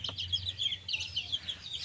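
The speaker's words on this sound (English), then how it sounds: "So pretty chickens I have." Native chicks make a quick run of soft, high chirpy clucks nearby over a low background hum.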